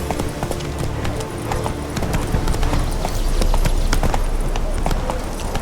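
Roach the horse galloping in The Witcher III: Wild Hunt, fast loud hoofbeats pounding in quick rhythm amid game ambience, with a voice speaking over them.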